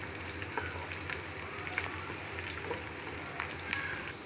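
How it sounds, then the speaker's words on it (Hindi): Sliced onions fry in oil in a pan for a beef pulao, making a soft, steady sizzle with a few light clicks of stirring, heard close but fairly quiet and with no voices. "अभी मैं प्याज मैंने चढ़ा दिए हैं ये फ्राई हो रहे हैं"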